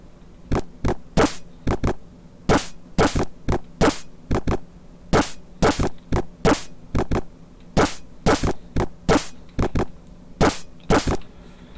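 Drum sounds from an FM-YAM sound chip on a Commodore 64, programmed in Edlib: loud, sharp metallic hits in a quick, repeating rhythmic pattern, each one bright and ringing, with no voices.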